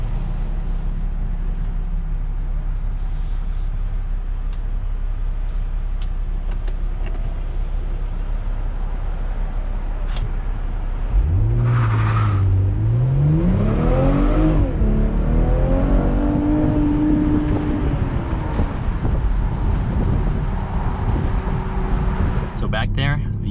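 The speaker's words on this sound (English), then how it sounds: "I'm gonna go ahead and see if I could do an acceleration right here." A 2021 BMW M440i Convertible, rear-wheel drive, launches hard from a brake-boosted hold, its engine idling low then rising sharply through a climbing rev sweep with a gear change, loud and close from inside the car.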